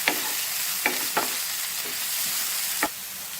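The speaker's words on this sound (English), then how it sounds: "Saute them for like about 2 minutes until the onion and tomato becomes a little bit soft." Onion and tomato sautéing in a pan give a steady close sizzle, broken by a few sharp clinks and scrapes of stirring, with no talk.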